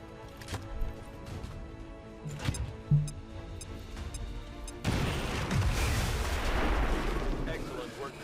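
A bomb blast in the video game XCOM 2 bursts out with a loud, broad rumbling explosion after some scattered thuds and impacts, then a sustained crashing roar that slowly fades.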